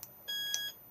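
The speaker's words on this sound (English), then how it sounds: "1 beep armed, 2 beeps disarmed." A Lunar Clubman SE caravan alarm gives a single short, clear electronic beep when armed, faint against a quiet interior.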